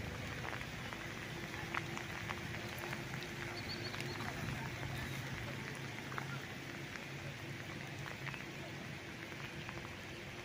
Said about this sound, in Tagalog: Yan, medyo maulan, nandito tayo ngayon, uulanan.